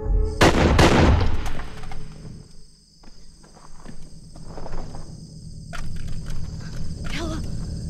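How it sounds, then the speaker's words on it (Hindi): Two sharp, loud gunshots crack at the start of an action film scene, followed by footsteps, rustling and voices talking. "ये गोली का आवाज किधर से आया?"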